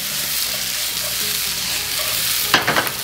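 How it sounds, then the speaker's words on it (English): Vegetables sauté in extra virgin olive oil over medium heat for a cavatappi primavera, giving a loud, steady close sizzle, with a brief burst of stirring clatter near the end. "Saute for a few minutes."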